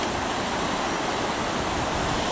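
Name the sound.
small waterfall on the River Wye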